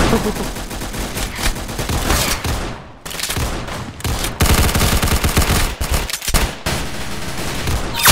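Rapid gunfire from the Roblox game Arsenal, a dense, loud stream of shots and bursts that continues almost without pause, with brief gaps.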